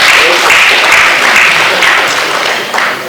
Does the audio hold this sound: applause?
yes